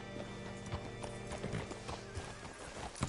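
Rapid clip-clop of horse hooves on hard ground with a whinny rising among them, set in a steady ambient game soundtrack, in a PS4 game.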